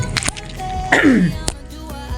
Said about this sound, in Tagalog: medyo may ubo tayo, no? Hindi lang medyo, malala yata to.